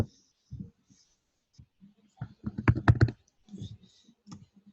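A name typed on a computer keyboard, sparse light key clicks that bunch into a quick close burst midway, with brief faint voice sounds around them.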